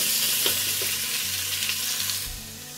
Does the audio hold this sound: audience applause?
no